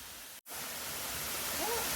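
Brae Head Falls, a tall waterfall in Clarendon, Jamaica, produces a steady, dense roar of falling water that fills the scene. It is close and constant apart from a very brief dropout near the start.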